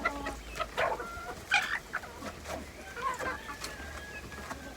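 Hens cluck in a coop: scattered, overlapping clucks and short calls, fairly quiet and a little distant, with no talking.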